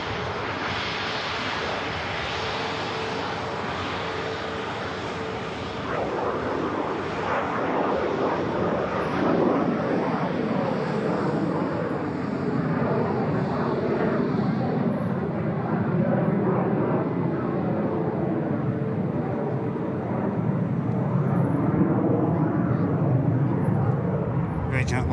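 A Canadian Air Force Hercules lands at an airport with a loud, steady turboprop roar and broad rumble that swells partway through, while voices talk over it.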